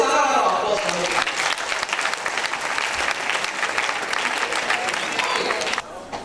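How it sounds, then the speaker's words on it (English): Applause for a speaker at the official launch of a space ambassador scheme in Nigeria, a dense, loud burst of clapping from a crowd that carries on for several seconds before fading near the end. "This is another round of applause for him."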